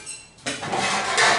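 A drywall knife scraping joint compound into a metal mud pan, first faint, then a louder, gritty metallic scrape that continues steadily for about a second, close by with no talking.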